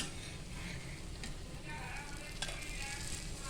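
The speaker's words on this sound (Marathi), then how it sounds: "ह्या ह्यांना फ्राय करून घेऊया आता आपण ह्यांना पलटी मारून घेऊया" Bread pakoras made with moong and chana dal frying in hot oil, a dense continuous sizzle with a few faint turning clicks as they are flipped, close and even.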